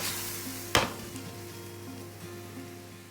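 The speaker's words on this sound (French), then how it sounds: "Ici, on utilise une poêle en inox afin que les sucs de la viande se forment." Meat sizzles steadily in a stainless steel frying pan, a soft continuous crackle close up, broken by one sharp hiss or clatter partway through.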